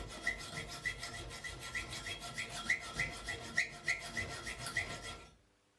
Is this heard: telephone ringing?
no